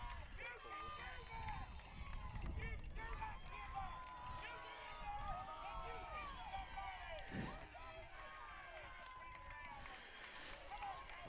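Home-side crowd at a high school football game, a lively steady roar of cheering and noise filling the stands throughout, with an announcer talking over it.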